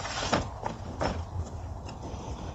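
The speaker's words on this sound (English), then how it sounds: "Just slide it all the way" An e-bike battery slides into the frame of a Senada Drifter fat-tire folding electric bike with a few short scraping and clunking contacts over a quiet background.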